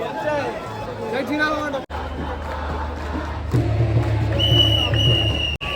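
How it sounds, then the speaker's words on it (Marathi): A huge, dense crowd of Ganesh devotees gathers at the Lalbaugcha Raja immersion in Mumbai, its steady roar of chatter and shouting swelling louder partway through, with a nearby voice speaking over it. "आणि सगळी आलोट गर्दी लाट उसळली आहे गणेश भक्तांची"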